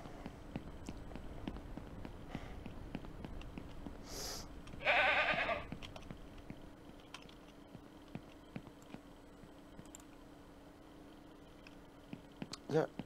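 Faint ambient hum with scattered clicks and taps, and a single short goat bleat in the middle in the game Ranch Simulator; quiet rustling noises follow.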